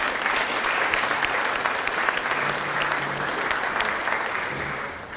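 Delegates applaud at a state party conference in Güstrow, a dense, loud and steady wash of clapping from a large seated crowd that holds for several seconds and eases slightly at the end.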